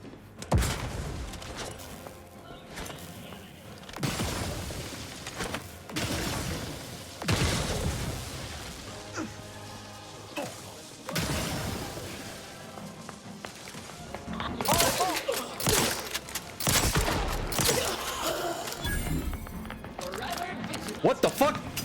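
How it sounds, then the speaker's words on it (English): Enemy gunfire in The Outer Worlds 2 on very hard difficulty cracks in sharp bursts and thuds, scattered irregularly through a busy, loud game mix with speech mixed in. "there's still one guy that's shooting"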